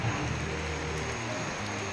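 Heavy rain pours down, likely drumming on a metal sheet roof, in a dense, steady roar that stays close and loud for the whole two seconds with no voices.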